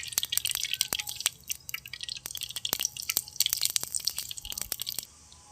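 Oil is poured into a heated clay pot for a banana-stem stir-fry, setting off a dense run of sharp, irregular pops and spatters that stop abruptly near the end, close and moderately loud.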